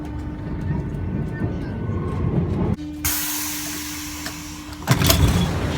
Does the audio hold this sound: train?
yes